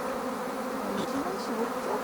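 Honeybees buzz close by near their hive during a clover honey harvest, a dense, continuous drone with wavering pitches as individual bees pass, and no talking.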